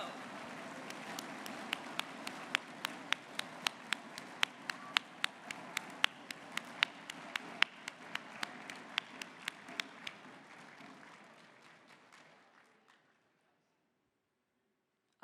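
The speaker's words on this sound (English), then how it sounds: "Let's have a round of applause for all of them as we get a group photo." Audience applause at a national math competition countdown round, a dense crowd clapping with a few sharp louder claps standing out, steady for about ten seconds then fading away into silence.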